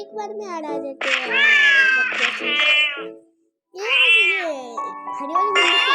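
Cartoon cat meows from a cat puzzle game, loud and close, several drawn-out whining meows with a short gap between them, mixed with other game sound effects.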